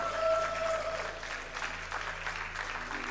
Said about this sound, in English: Can we get one more round of applause for that amazing run?